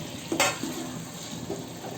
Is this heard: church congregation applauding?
no